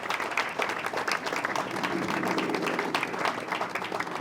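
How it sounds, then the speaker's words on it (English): A crowd applauds an architectural firm at an aerospace flight operations building topping-out ceremony, steady mid-distance clapping from many hands throughout. "Could we give a round of applause to the members of the architectural firm TMP who are represented here today?"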